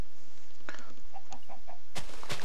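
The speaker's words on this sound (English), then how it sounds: "Another chicken." A Minecraft chicken clucks in a few short, soft bursts over steady ambient noise, followed by a sharper clicking hit near the end.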